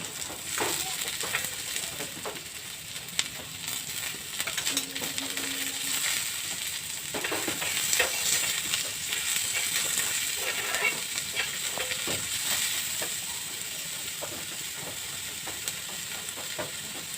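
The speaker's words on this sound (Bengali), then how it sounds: "দিয়ে দিচ্ছি কুচনো পেঁয়াজ" Chopped onion is added to garlic already frying in a pan, giving a steady close sizzle with scattered scrapes and stirring clatter throughout, at a moderate, even level.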